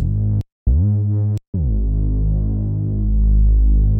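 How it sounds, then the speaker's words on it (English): A loud, thick, throbbing Reese bass synth holds low sustained notes, with two abrupt short gaps early on. "Just copy the bass notes of the piano and put it into the Reese bass"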